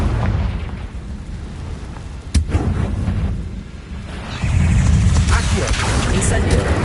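A Confringo fire spell explodes in Hogwarts Legacy, with a sharp blast near the middle followed by a loud rumbling burst of fiery noise, layered over busy game sounds.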